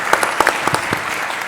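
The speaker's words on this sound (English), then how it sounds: "I'm going to give him a round of applause" A real estate event audience gives a brief round of applause, a quick cluster of sharp, distinct claps lasting barely a second and a half, close and fairly loud before fading.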